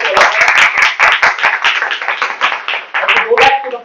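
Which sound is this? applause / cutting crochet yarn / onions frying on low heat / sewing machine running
applause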